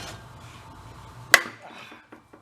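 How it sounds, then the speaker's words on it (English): A brass hammer smacks a part on a broken reel mower with one sharp, loud metallic strike, followed by two lighter taps after a short pause. "we'll smack it with a hammer. A brass hammer"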